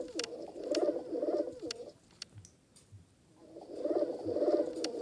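Cooing pigeons from a pigeon video game, low burbling calls in two bursts separated by a quiet gap with a few soft taps and clicks, moderately close and fairly quiet.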